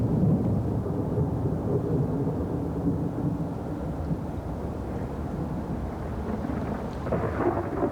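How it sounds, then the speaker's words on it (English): Thunder rumbles low and continuous over St. Peter's, a broad, heavy roll that holds steady throughout with a faint hiss of rain. "Storm clouds gathered over St. Peter's. Hostile commentators took the storm as a portent."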